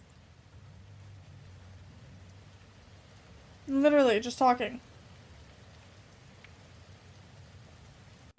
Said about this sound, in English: Rain, heavy and cold, pelted endlessly against my body as I squinted into the gloom of the woods.